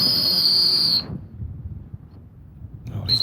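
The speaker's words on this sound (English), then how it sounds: "he's getting all he can get out of that whistle" A loud, shrill, steady dog handler's whistle blast at a retriever competition cuts off abruptly, followed by quiet outdoor noise, then a second whistle blast starting at the end.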